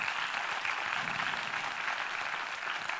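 Audience clapping at a motivational success seminar, a continuous even wash of many hands applauding together, steady throughout and somewhat distant.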